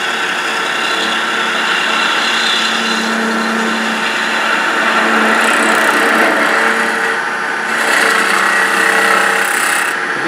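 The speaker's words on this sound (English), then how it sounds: "I can come in there with my detail gouge. I can take one more pass." On a lathe, a detail gouge cuts into spinning wood while a Christmas tree is turned, producing a loud, continuous rasping shave with a steady motor hum underneath that lasts throughout.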